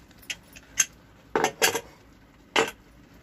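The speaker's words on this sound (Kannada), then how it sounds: "ನೋಡಿ ಇವಾಗ ಪ್ರೆಷರ್ ಇಳಿದಿದೆ, ಈಗ ನಾನು ಕುಕ್ಕರನ್ನು ತೆಗಿತಾ ಇದ್ದೀನಿ." Pressure cooker lid being opened in a home kitchen after the pressure has dropped, a few sharp, quiet metallic clinks and clanks spaced unevenly over a few seconds.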